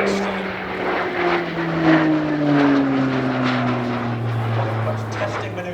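A Slovenian Armed Forces Pilatus PC-9M Hudournik turboprop drones steadily during a RIAT 2024 flying display, its engine pitch sliding gradually downward as it passes along the runway, heard under a commentator's running talk.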